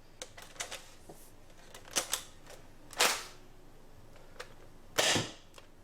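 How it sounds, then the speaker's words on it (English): A NERF Rival Forerunner blaster fires a series of rounds: sharp, spaced pops and clicks with a few louder bursts of air, close by and with no talking. "Let's make sure it's firing the rounds"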